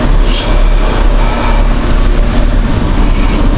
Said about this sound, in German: So, jetzt den Bagger.